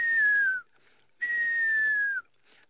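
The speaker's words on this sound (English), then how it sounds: "African grey hornbill. There he sits. Beautiful. One of the whistling hornbills." An African grey hornbill, heard outdoors on safari, gives two clear descending whistles, the second longer, each followed by a short pause and a faint trailing note.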